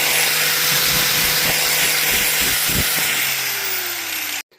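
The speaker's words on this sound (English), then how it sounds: "I am now going to use a flap disc to remove the paint from any of the housings" Flap disc on a power grinder stripping paint from an old motor housing, a loud close steady whine with faint rhythmic knocks underneath that stops abruptly at the end.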